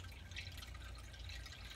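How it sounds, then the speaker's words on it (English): Home-brewed Grand Bohemian Pilsner beer wort poured through a strainer, a soft steady trickle and dripping of liquid, faint and continuous with no talking. "I'm pouring this here in my strainer, sort of to strain it"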